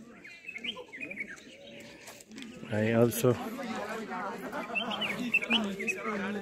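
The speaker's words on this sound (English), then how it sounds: "Look at the number of birds chirping." Birds chirp and tweet outdoors along a scenic walk in Kodaikanal, with bright calls scattered through the background while someone talks over them at close range.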